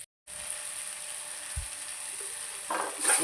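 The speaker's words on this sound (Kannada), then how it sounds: "ಇದೀಗ ಸ್ವಲ್ಪ ಒಂದು ಐದು ನಿಮಿಷ ಫ್ರೈ ಆಗಲಿ" Ground masala with tomato fries in a hot pan as a steady, fairly quiet sizzle, joined by a brief low thump and a louder crackling burst near the end.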